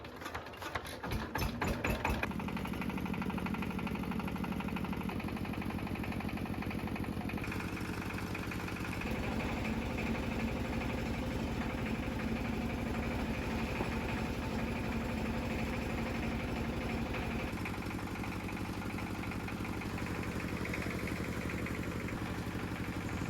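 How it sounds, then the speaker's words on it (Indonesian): A chopping machine running steadily while shredding cassava leaves for silage, a loud continuous mechanical drone with buzzing vibration whose pitch shifts slightly as it loads and unloads. "kami ini sedang mempersiapkan mesin pencacah untuk mencacah daun singkong"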